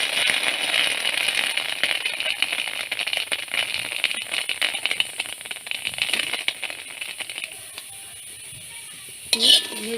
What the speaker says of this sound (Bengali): রসুন কাঁচামরিচ কালিজিরা পেঁয়াজ ভেজে নিব